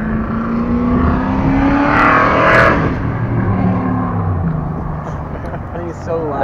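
A loud car engine revs up and then settles at a Cars and Coffee meet, the pitch rising and falling close by, with people talking nearby.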